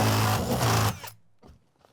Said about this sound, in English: When in doubt, drill it out. Use a 3/4 inch bit.